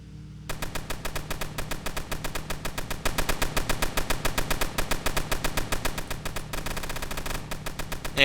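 Mounted gunners firing machine guns in the Tower Battles video game, a loud, fast, unbroken stream of rapid shots that runs for several seconds with brief shifts in rhythm, with no talking.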